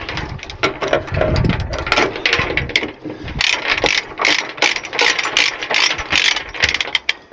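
A ratchet load binder is worked loose on a fuel tank tie-down, with close, loud bursts of rapid metallic clicking and clanking in uneven strokes with short pauses between them.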